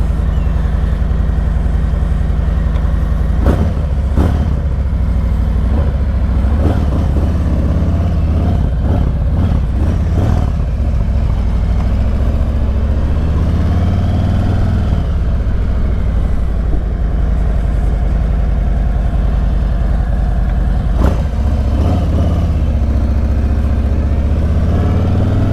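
A steady, loud Harley-Davidson Road King exhaust with slip-on mufflers and medium baffles rumbles throughout with a deep low drone, a few throttle blips and passing revs, no talking.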